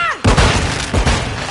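Gas grenade thrown in a video game, heard as two heavy close bursts of noisy impact and hiss roughly seven tenths of a second apart, loud and alone.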